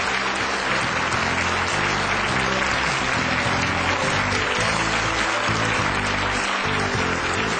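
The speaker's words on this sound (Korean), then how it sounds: "다시 한번 수고해 주신 이종철 원장님께 뜨거운 박수를 부탁드리겠습니다." A lecture audience gives sustained, loud, even applause after a CEO talk by a hospital director, the dense clapping steady and unbroken throughout.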